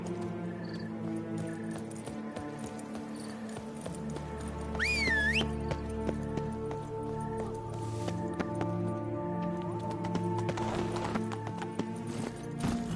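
Hoofbeats of Roach, Geralt's horse, walking in The Witcher 3 video game, a steady clip-clop set under continuous orchestral game music with a brief whistling tone partway through.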